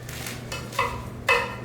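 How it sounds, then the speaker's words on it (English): A knife chops fresh kale on a cutting board in a home kitchen, three or four close, crisp thuds spaced about half a second apart against quiet room tone. "I'm just going to start chopping up my kale here"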